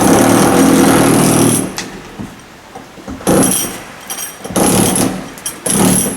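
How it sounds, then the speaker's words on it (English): A loud jackhammer pounds in sustained bursts while cutting an opening in a chicken coop, stopping and restarting several times with short pauses between runs. "using the jackhammer, outlining that opening"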